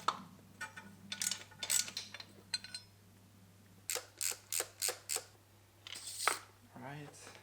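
A ratchet works on the intake manifold bracket of a BMW S54 engine during a teardown. A quick series of five evenly spaced bursts of clicking sounds up close, with scattered handling noises before it and brief sounds after.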